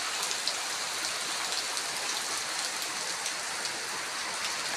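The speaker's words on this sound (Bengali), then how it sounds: "দেখেন এই যেখানে খালি বৃষ্টি হচ্ছে" Heavy storm rain pours down steadily, a dense, loud hiss of drops hitting surfaces that stays constant throughout with no voices.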